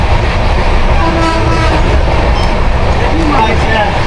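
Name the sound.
East Express train running fast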